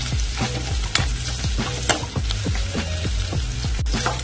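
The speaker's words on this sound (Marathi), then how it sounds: "मिरची छान आपल्याला परतून घ्यायची आहे. मिरची तळल्या गेल्या आहेत आपल्या." Green chilies sautéing in hot oil in a pan for a traditional leafy vegetable dish, a steady close sizzle broken by repeated scrapes and taps of a stirring spoon, with no talking.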